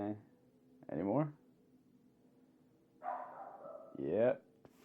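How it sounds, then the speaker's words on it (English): A small Jack Russell Terrier mix gives a few sharp, separate barks indoors during a podcast recording, the barks spaced apart with quiet gaps between them. "So, that is the barking"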